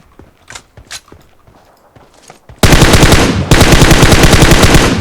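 Automatic gunfire from PUBG Mobile, fired through a red-dot sight: a few faint clicks and taps, then a loud, sustained rapid burst that pauses briefly and resumes hammering to the end.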